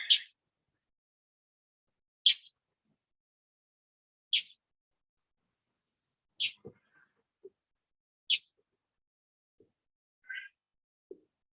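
A bird calling from a rooftop, a different call repeated as short bright chirps about every two seconds, faint and distant, with a couple of soft lower clicks in between.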